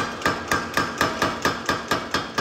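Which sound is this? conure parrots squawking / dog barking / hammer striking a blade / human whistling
hammer striking a blade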